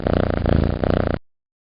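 A cat purrs close by in a continuous, fairly loud rumbling rhythm that breaks briefly twice, then stops abruptly after about a second.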